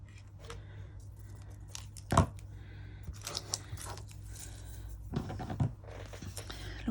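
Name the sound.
trimming paper for a junk journal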